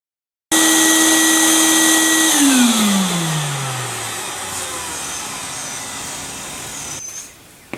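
A vacuum starts abruptly and roars loud and close while cleaning up sawdust around a miter saw, its whine dropping in pitch as it sucks up debris, then it cuts off near the end.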